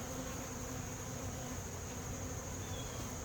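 Carniolan honeybees in a horizontal hive during a late-season inspection, a continuous low buzzing drone, close and steady, with no talk.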